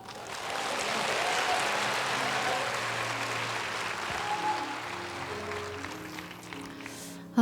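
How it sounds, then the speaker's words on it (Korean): A church audience at an evening thanksgiving CCM concert breaks into steady, dense applause that holds for several seconds and slowly thins out, with a few cheers mixed in. "환호를 해주실 거면 이렇게 확실하게 해주시고 안 해주실 거면 안 해주시고"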